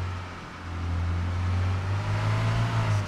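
A car drives in the video game Arma 3 (ReallifeRPG mod), a steady low engine drone that holds throughout and swells slightly as it goes, with no voices.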